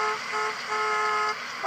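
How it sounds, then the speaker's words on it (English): Several car horns honk together in a sustained, overlapping blare, loud and steady for under two seconds with a brief dip near the end. "Why are they all honking?"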